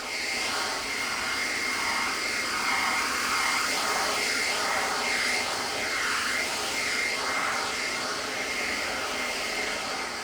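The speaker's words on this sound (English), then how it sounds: "the cordless blower generates a sufficiently high airspeed to handle these challenges quickly and effortlessly" A Makita DUB187Z compact 18V cordless leaf blower runs continuously outdoors on leaves, a steady close airy roar with a whine that rises and falls in repeated sweeps, no talking.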